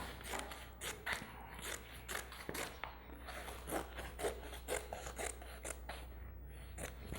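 Scissors snip away excess fabric lining on a trapezoid zippered cosmetic bag, a quiet run of close, repeated cutting and rubbing sounds with no talking.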